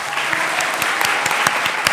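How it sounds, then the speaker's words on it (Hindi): Audience applause at a Hindi student quiz competition, a steady wash of many hands clapping with a few sharper nearby claps standing out, continuous through the short stretch. "तालियां हो जाए इनके लिए भी।"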